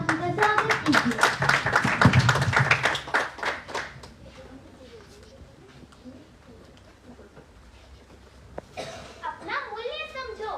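Audience clapping at a school storytelling competition in a hall, loud dense applause for about four seconds that then fades into quiet murmur, with children's voices and speech near the end.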